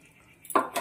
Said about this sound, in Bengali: মশলা কষবো লো ফ্লেমে, মশলাটা কষবো লো ফ্লেমে